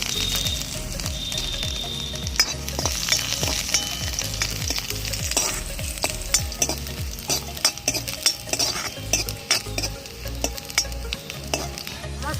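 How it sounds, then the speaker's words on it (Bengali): Black cumin, dried red chilli and chopped garlic fry in hot oil while being stirred, a steady close sizzle broken by repeated scraping strokes of a spatula against the pan, with no voices. "আর কিছুটা কালো জিরে দিয়ে দেবো এবার দিয়ে দেবো কুচিয়ে রাখা রসুন"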